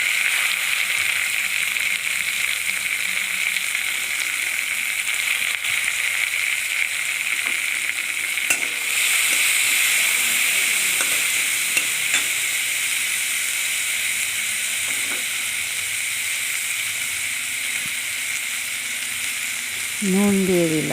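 Soaked chickpeas and kalai dal frying with salt in hot oil, a loud, steady sizzle and hiss lasting throughout, with occasional soft stirring knocks and a brief rising squeak near the end.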